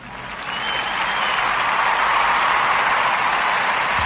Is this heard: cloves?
no